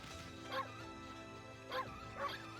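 A scared dog in the Okami video game whimpers in three short, high yelping cries spaced apart over a steady, faint game background hum.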